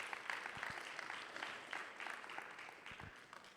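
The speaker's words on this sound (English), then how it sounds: "let's give everybody another round of applause." A demo day audience applauds the startup founders, a steady patter of many hands clapping that sounds distant and faint, with no talk over it.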